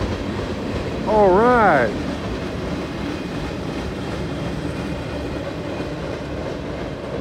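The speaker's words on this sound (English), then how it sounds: "The train had a caboose on it." A CSX freight switching train with a caboose rolls past a crossing, a broad steady rumble throughout, with a loud, wavering horn-like blast early on and an excited voice calling out over it.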